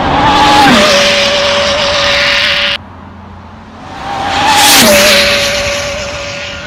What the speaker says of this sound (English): The car drives smoothly without bouncing.